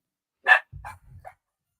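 A dog barks indoors during a home podcast recording: one sharp, loud bark followed by two shorter, lower grumbling barks, with silence around them and no talking.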